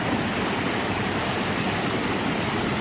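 A flooded forest stream at Hubbard Brook rushes after a heavy deluge, a dense, steady broadband roar of fast-moving water, close and unbroken.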